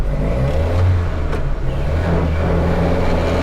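Engine of a 1953 Citroen Traction Avant pulling in second gear, a loud continuous mid-pitched drone that swells and eases while the car accelerates, close and with no talk.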